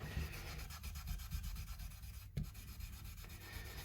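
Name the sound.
rubbing guitar frets with wire wool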